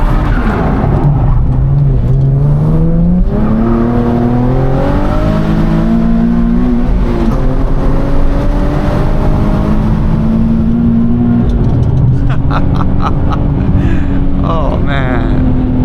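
Engine of a tuned Nissan 370Z revving while driving, a loud, close, continuous drone that climbs and falls in pitch through repeated throttle changes, with a sharper crackling burst near the end.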